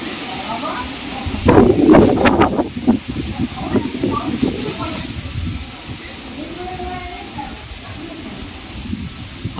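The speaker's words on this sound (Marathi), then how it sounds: "वारा बघा किती सुटलाय" Strong gusty wind sweeps through jackfruit and mango trees before a storm, roaring loudest early on and then settling into a steady rushing bluster, with a voice talking over it.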